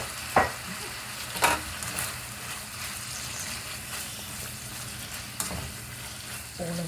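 Cabbage, bacon and onion frying in a pan, a steady close sizzle with a few louder stirring scrapes and clatters.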